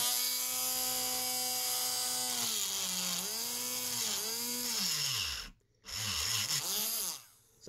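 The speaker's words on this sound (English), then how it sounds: "I'm just going to grind on this aluminum heat sink a little bit." A battery-powered Dremel grinds an aluminum heat sink with a steady high-pitched motor whine. Its pitch sags and wavers under pressure, dips out briefly near the end, then spins back up, with no voices.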